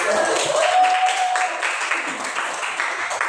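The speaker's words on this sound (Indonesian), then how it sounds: "Oke, tepuk tangan buat kita semua" A classroom of students applauds, a dense wash of clapping lasting throughout and mixed with voices and a faint whistle-like tone.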